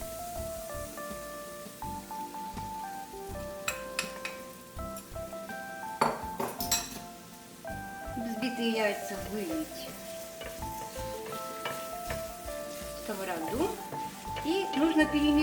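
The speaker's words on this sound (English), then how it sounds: "Now we need to pour the eggs into a frying pan" Beaten eggs go into a frying pan with cauliflower and sizzle steadily at close range. Utensils clink and scrape now and then, and faint music plays underneath.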